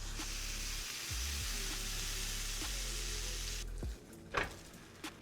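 Garlic butter and grilled cheese sizzle on a hot skillet, a steady close hiss broken by a few soft scrapes and clicks, then quieting near the end.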